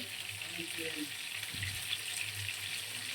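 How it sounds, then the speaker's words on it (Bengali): Katla fish fries in a pan with a soft, steady sizzle, fairly quiet throughout and with no talk. "মাছটা ভাজা হয়ে যাক।"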